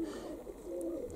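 Budapest-breed pigeons coo softly in a loft, low murmuring calls that rise and fall at a quiet, close distance.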